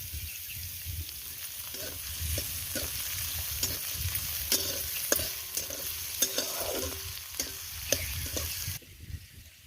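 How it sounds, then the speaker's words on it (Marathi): Onion frying in a pan over a wood-fired stove, a continuous close sizzle broken by repeated scraping stirs and sharp spoon clicks against the pan, no voices. "इकडे कांदा भाजतोय"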